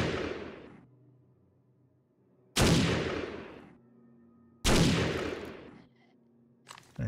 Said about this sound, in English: I am using armor-piercing rounds on my sniper rifle